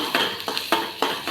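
Chopped onion is sautéed in a pan with fried urad dal, and a spoon stirs it in four quick, even scraping strokes over a faint sizzle.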